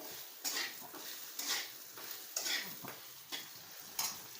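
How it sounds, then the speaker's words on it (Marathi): A spoon scrapes and clinks in rhythm as it mixes spices, including coriander-cumin powder, into a curd and chili mixture in a bowl. Roughly six close strokes come at an even pace. "ह्याच्यात सगळा चांगले असे मिक्स करून घ्यायचे"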